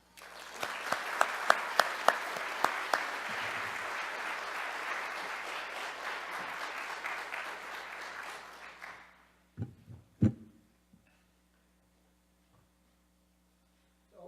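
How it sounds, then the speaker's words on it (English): Applause from a conference audience greets a keynote speaker, steady and full for about nine seconds with a few sharper claps standing out near the start, then cutting off to near silence broken by a couple of faint knocks. "Please join me in giving him a healthy round of applause"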